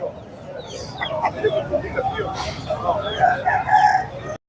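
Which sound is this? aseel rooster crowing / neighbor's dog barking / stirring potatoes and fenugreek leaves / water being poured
aseel rooster crowing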